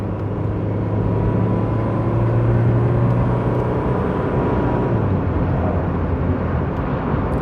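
A Citroen BX 19TXD automatic accelerates from 30 to 50, its engine drone rising steadily through the cabin as a loud, continuous rumble with no talk.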